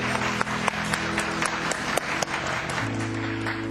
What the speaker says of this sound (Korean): 서로 향해서 따스한 사랑의 박수를 보내주시기 바랍니다.